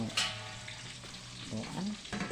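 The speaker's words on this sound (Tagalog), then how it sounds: "at og ahos kay magisa ta og broccoli" Garlic sautéing in a pan as the start of a broccoli dish, a steady soft sizzle with brief stirring scrapes, close and fairly quiet.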